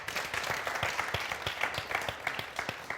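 Fairly faint applause for festival guests in a TV studio audience, a light patter of clapping with distinct individual claps standing out near and far.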